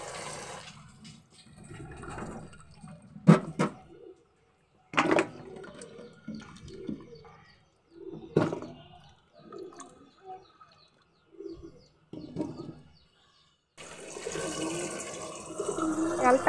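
Cut chalta (elephant apple) pieces are washed in water, giving irregular splashes and sloshing in short bursts with quiet gaps, ending in a longer, steadier stretch of running, splashing water.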